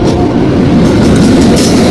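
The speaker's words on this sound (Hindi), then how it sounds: "ये रहा पूर्वा एक्सप्रेस, ये हमारा पांचवा ट्रेन है भाई वेट करने वाला।" The Purva Express rumbles past close by, loud steady wheel noise with clattering rail sounds throughout.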